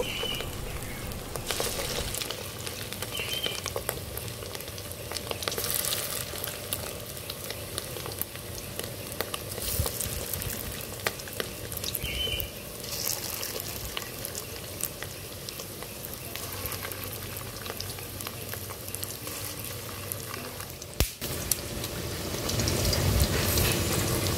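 Fish roe fritters sizzle in hot oil in a wok over a clay stove on a rooftop, a continuous dense crackle and hiss with scattered pops, steady throughout and no talk.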